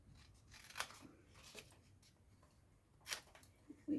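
Scissors snipping through paper card for a treat box, a few sharp, close cuts spaced irregularly over a quiet background.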